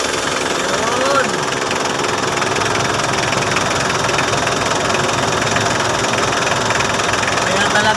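A Mitsubishi L300 engine idles steadily in neutral, a dense, continuous rumble with heavy shaking vibration. The broad noise holds level for the full span, and a voice speaks briefly over it.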